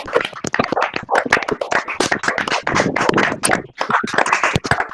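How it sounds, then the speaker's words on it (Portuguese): Applause after a physics lecture on unusual effects of sunlight, picked up over several participants' microphones, a dense, uneven spatter of close claps running throughout, with some overlapping sound from the open mics. "gostaria que todos ligassem os seus microfones para que, então, nós dessemos uma salva de palmas aí"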